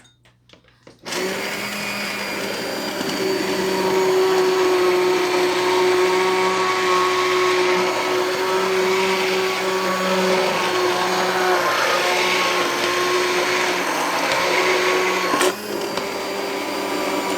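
A countertop blender purees tomato, potato and spinach soup, starting abruptly with a loud, steady whirring drone that holds for about fifteen seconds before a brief dip and continuing alone.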